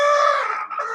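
A single short clucking squawk from a long-bodied Pakistani breed chicken kept on a rooftop farm, close and fairly loud, falling off at the end.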